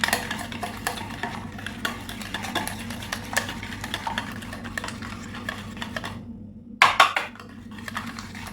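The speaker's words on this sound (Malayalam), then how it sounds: "ഇത് രണ്ടും കൂടെ നല്ലതുപോലെ ഒന്ന് മിക്സ് ചെയ്തെടുക്കാം." Ground sugar and cardamom powder stirred together in a bowl, a steady soft scraping rustle running throughout at close range, with a brief sharper clink of utensil near the end.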